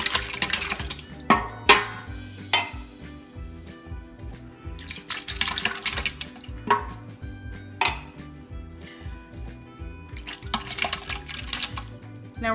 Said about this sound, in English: So we're gonna put our peaches in. You wanna put the whole cans in there.